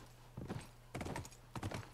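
Horse hooves in The Last of Us, three soft clusters of clip-clopping hoofbeats, fairly faint and close, over a low steady hum.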